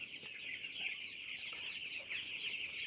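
Broiler chickens about fifteen days old clucking and chirping continuously on a poultry farm, a dense, steady flock chatter close by with no talking.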